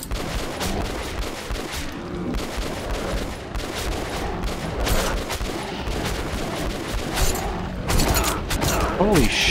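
Repeated gunshots and rattling weapon mechanics from Metro: Last Light Redux crack in irregular bursts, loud and close throughout.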